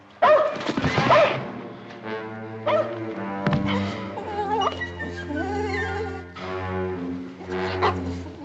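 A dog whines and yelps in a drawn-out, high, wavering series of cries, loud and close, with brief pauses between outbursts.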